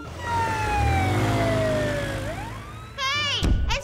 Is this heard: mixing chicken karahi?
no